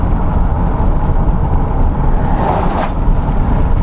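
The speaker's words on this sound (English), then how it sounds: "Here comes a truck." Vehicle noise from driving along a road near the Mexican border in New Mexico, with a truck passing; steady, loud broadband road rumble throughout and a brief rise in hiss as the truck goes by.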